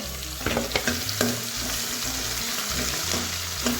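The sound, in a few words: dry red chillies and curry leaves frying for kadhi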